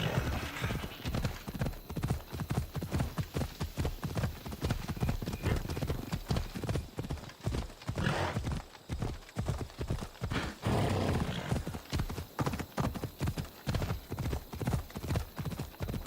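Horse hooves gallop in Assassin's Creed Odyssey, a fast, steady, loud clip-clop rhythm continuing throughout with faint voice in the background.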